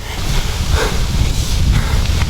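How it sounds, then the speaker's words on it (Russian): A strong headwind buffets the microphone during a gravel bike race, a loud continuous low rumble of wind noise with gusty swells throughout. "Нам еще и ветер в лицо максимальный."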